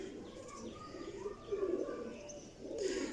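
Pigeons coo softly in repeated low, throaty phrases, with a couple of louder swells, set against faint background noise.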